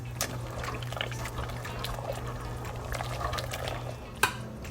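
Rigatoni pasta drops into a pot of boiling water and gets a quick stir, giving a steady low bubbling and watery swishing with a brief clink near the end, moderately quiet and close.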